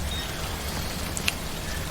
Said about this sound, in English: Okay, now it's raining. Rain in this game is timefall.